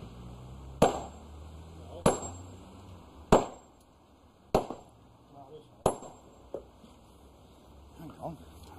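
Hammer striking stone at a pit bank: five evenly spaced, sharp ringing blows about a second apart, close and clear, followed by a few lighter taps and some faint voices.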